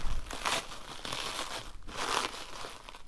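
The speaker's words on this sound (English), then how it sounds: "It's quite hard to unwrap this stuff with the camera in front of you." Powder-coated Honda CB400 Four motorcycle parts are unwrapped from crinkly plastic packaging, producing continuous close rustling and crumpling with louder swells.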